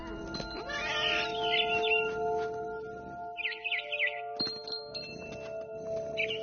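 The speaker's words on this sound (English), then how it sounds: "I was a cat." A cat meows in the video game What Remains of Edith Finch, several short soft mewing calls set against a quiet game soundscape of chiming tones.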